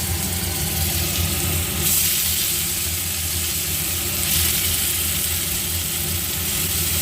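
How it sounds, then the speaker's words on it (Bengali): Ground spice paste frying in a pan gives a steady, continuous sizzle and hiss that holds at an even level from start to finish, with no voices. "মশলাটা আমি একটু কষিয়ে নিলাম"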